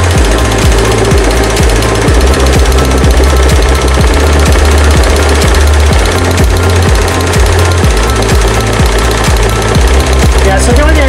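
Singer 401A sewing machine running a zigzag stitch, its needle hammering in a fast, loud, steady mechanical rhythm up close.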